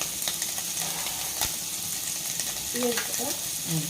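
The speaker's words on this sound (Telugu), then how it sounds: "బిర్యానీ పొడి బాగా వేయించుకోవాలి" Biryani powder frying with chicken pieces in a pan, a steady broadband sizzle with light stirring, and a faint voice-like murmur surfacing near the end.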